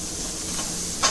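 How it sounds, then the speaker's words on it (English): Vegetables sizzling in hot oil in a pan, a steady close frying hiss with a brief louder crackle near the end. "Just a little more oil and you're going to hear more sizzling"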